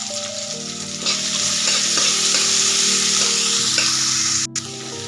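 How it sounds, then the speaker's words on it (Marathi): Finely chopped onion and green chillies fry in oil in a pan, a loud, continuous close sizzle with a steady hiss and occasional stirring scrapes, with no speech. "तेलामध्ये आपल्याला त्याचा पूर्ण कच्चेपणा जाईपर्यंत कांदा तळून घ्यायचा आहे"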